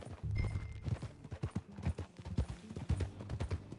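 Rhythmic clip-clop of horse hooves trotting close by in Red Dead Redemption 2, steady and even, with no talking.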